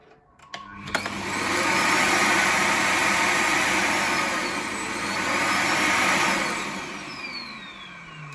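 A Samsung Bespoke Jet Complete Extra stick vacuum's emptying station sucks the dust bin out into its bag, a loud whooshing roar that starts with a few clicks, swells, dips briefly and ramps down.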